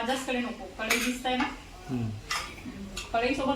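Vegetables stirred in a pan for a mixed veg bhaji of pigeon peas and cauliflower, with a spoon scraping and clinking against the metal in short irregular bursts close by, while someone speaks over it.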